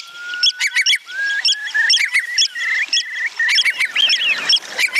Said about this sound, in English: the noisy oyster catchers